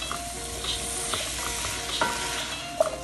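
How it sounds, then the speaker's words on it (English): Pineapple shrimp fried rice being stirred in a hot pan, with steady sizzling and frying under scattered scrapes and clinks of a utensil against the pan. "Then we're gonna give this a good stir."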